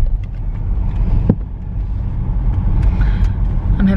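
Steady low rumble of a car moving along a road at night, heard from inside the cabin, with a few faint clicks and rustles over the constant drone and no talking.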